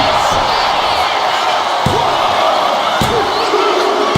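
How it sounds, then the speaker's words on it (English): A packed arena crowd at a WWE Raw wrestling match roars in a continuous loud wall of noise, with occasional dull thuds of bodies hitting the ring. "when you can't hear yourself think because the crowd's so loud"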